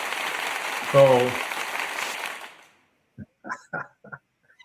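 A canned applause sound effect swells and fades over a couple of seconds, with a short shout in it, then a voice speaks a few words.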